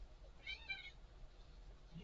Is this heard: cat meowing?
yes